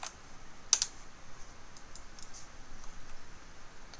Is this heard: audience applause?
no